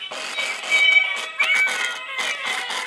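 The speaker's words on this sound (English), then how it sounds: "Kitty cat's meowing" A musical Christmas card playing a cat meowing sound, a series of close, loud electronic meows in quick succession with tinny, bright tones, several distinct calls across the span.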